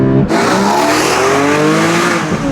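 A Porsche 718 Cayman GTS 4.0 accelerates hard out of a corner, its engine note rising steadily and loud throughout, with rich layered harmonics climbing in pitch and no talk over it.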